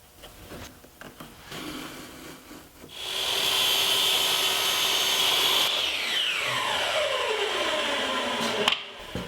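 A power miter saw spins up with a loud, steady whine, cuts through wood picture-frame stock, then winds down with a falling pitch, close and with no one talking.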